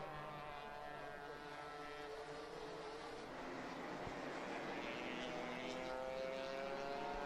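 A racing vehicle with a noisy exhaust during qualifying heats, a steady buzzing engine drone with rising whine, heard at a distance and fairly faint, continuous throughout.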